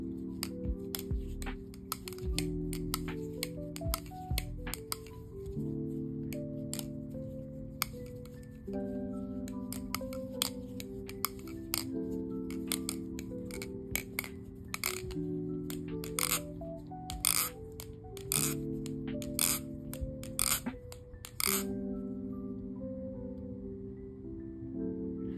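Rapid metallic clicks and clinks from a budget balisong knife with spacers being flipped again and again repeat steadily over a low humming tone, close up.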